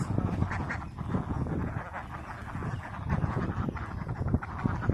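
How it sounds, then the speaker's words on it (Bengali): A flock of ducks quacks close by in a continuous, busy chorus of overlapping calls throughout. "এই যে দেখুন আমার হাঁস।"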